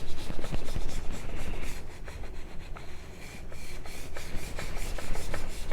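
A knife edge rubbed back and forth over a Morihei sharpening stone in a polishing pass, a continuous close scraping and swishing with soft rhythmic strokes and no voices.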